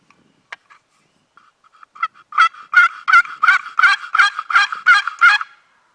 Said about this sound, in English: There's a gobble.